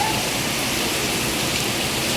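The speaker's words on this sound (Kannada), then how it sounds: "ಮಳೆ ಎಲ್ಲ ಮೇಲೆ ಬರ್ತೈತೆ." Rain pours down steadily in a dense, even hiss, close and fairly loud, filling the whole short stretch with no break and no voices.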